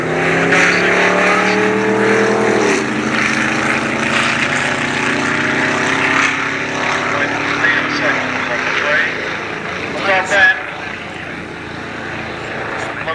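A drag racing car, Sean Turner's Urban Warrior, makes its run at North Weald in 1986, its loud engine roaring and shifting in pitch before fading, with an announcer talking over it throughout.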